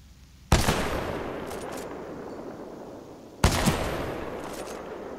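Two loud sniper rifle shots in Titanfall 2 training, each a sharp, close crack with a long ringing tail, about three seconds apart.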